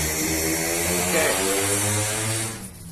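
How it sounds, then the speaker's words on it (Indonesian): A loud, close motorcycle engine drones and revs with a harsh buzzing tone, then cuts off abruptly near the end. "itu suara motor berisik banget."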